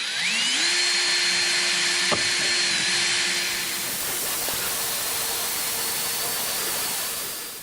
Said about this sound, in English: I'm going to drill a hole through the lens and the blinker assembly inside of there,